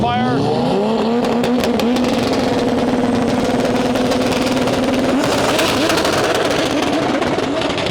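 Limited Street drag race cars run a qualifier at a drag strip, with loud sustained engine roar rising in pitch as they accelerate, a continuous dense blare across the clip and voices faintly beneath.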